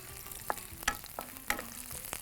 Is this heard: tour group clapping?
no